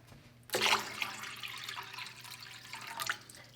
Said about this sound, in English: We're going to add in a bunch of water.